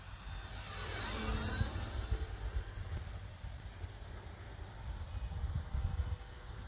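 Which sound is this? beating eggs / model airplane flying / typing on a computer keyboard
model airplane flying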